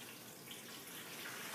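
Cold brew coffee poured through cheesecloth, a steady, continuous trickle of liquid heard up close on its own, with no talking.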